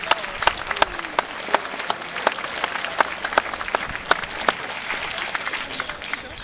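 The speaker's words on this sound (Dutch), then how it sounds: "Dames en heren, het eerste applaus voor deze avond." A crowd at a marine tattoo military ceremony breaks into sustained applause, with sharper individual claps popping out over the general clapping and a faint murmur of voices beneath.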